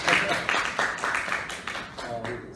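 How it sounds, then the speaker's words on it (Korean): An audience at the 44th SSK human rights workshop applauds a professor being introduced: a run of moderately loud, evenly spaced claps in a room, with some talking underneath. "박수 한번"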